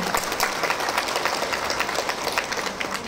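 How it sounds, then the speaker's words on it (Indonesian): An audience at an Indonesian Atomy red ginseng product presentation breaks into continuous, dense clapping, close and loud without pause. "Tepuk tangan dong buat Atomy."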